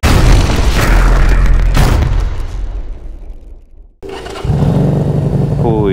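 A CMC Buccaneer motorcycle engine booms loudly close by, dips briefly into near silence, then catches again and settles into a steady running rumble.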